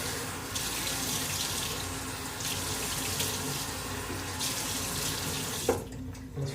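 A tap runs steadily into a sink while someone wets their face, a continuous close hiss and splash that stops abruptly near the end, followed by a small clunk.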